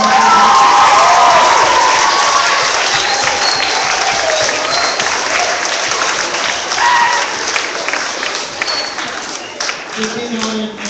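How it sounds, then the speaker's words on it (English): Schoolchildren at a Day of Kindness assembly applaud and cheer their presenters, a loud, steady wash of clapping with shouts and whoops over crowd noise, tapering slightly near the end. "How about we give our presenters a big round of applause?"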